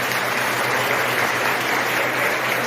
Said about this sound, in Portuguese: E eu peço à igreja uma salva de palmas à minha esposa.